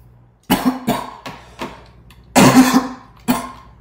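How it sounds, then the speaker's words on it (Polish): Five or six sharp, close coughs arrive in separate bursts, with one longer rasping fit in the middle and quiet pauses between them. "jeżeli kaszlę, to przepraszam was bardzo za to"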